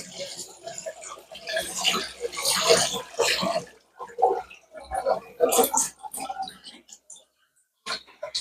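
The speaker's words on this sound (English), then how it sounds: "just run water through the actual rice itself" Cold water runs from a tap over rice in a kitchen sieve, a splashing, gurgling rush that comes and goes in bursts over several seconds with brief pauses. Nearby rustling and handling sounds mix in.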